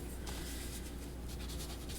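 A red color pencil scratches steadily across paper, a faint, close, continuous scraping as it marks points on a drawing.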